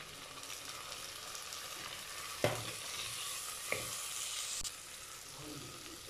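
Onion and tomato sautéing in oil in a pan, with a soft steady sizzle and a few sharp clicks of a spoon against the vessel; no one talks.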